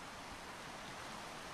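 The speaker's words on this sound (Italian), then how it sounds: "Qua c'è la cascata, quindi possiamo fare tutto il rumore che vogliamo," Waterfall in the video game A Quiet Place, a soft, steady broadband rush of falling water, continuous and even, heard alone without speech.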